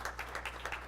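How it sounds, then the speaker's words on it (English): A short burst of scattered hand clapping from a small audience at a school board meeting, faint and brief. "I just want to do a quick little applause because this is a big deal for us"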